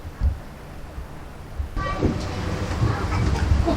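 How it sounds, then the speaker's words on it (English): Scarborough North Bay miniature railway train arriving at a station for Peasholm Park, heard as a rising rumble with a brief horn-like tone, over steady outdoor ambience and faint nearby voices. "the only thing we're doing now is just waiting for the train to arrive to take us to Peasholm Park"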